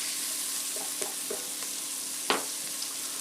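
Carrots sizzle in a pot with a soft steady crackle while a utensil stirs them, giving a few light scrapes and one sharper knock, no talk.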